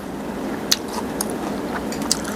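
Someone chews sour green mango with dried shrimp and peanuts, giving soft, wet bites with a few sharp crunchy snaps over a steady low background hiss, close and fairly quiet with no talking.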